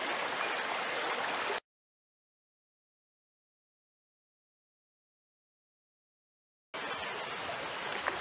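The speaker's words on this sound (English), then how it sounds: "And there goes the river," A river flows through woodland beside a bluebell meadow, giving a steady, even rush of water. The sound cuts out abruptly into total silence for several seconds, then resumes just as before.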